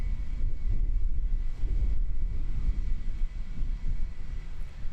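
A Jetstar airliner comes in at Christchurch Airport, its engines a steady, loud low rumble with a faint whine that holds throughout, alongside some wind buffeting the microphone.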